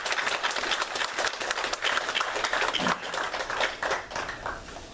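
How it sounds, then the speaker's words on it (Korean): Church congregation applauding after a musical performance at a Sunday worship service, a dense, sustained wash of many hands clapping at steady loudness that tapers slightly toward the end. "다시 한번 우리 감사와 격려의 박수 드려드릴게요."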